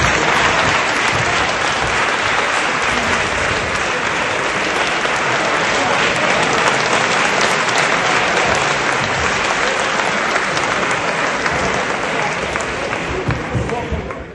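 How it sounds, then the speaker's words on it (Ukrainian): Members of Ukraine's parliament give Reznikov a standing ovation, a loud, dense wall of clapping that fills the chamber steadily and evenly for the whole stretch before tapering off at the very end. "Слуги народу йому влаштовували стоячі овації, коли він зайшов"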